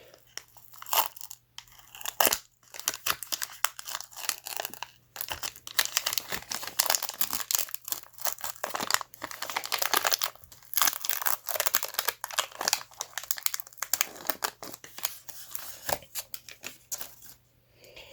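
Foil wrappers of Pokemon card packs crinkle and rip open up close, a dense run of sharp crackling and tearing bursts with brief pauses, loud and crisp with no talking.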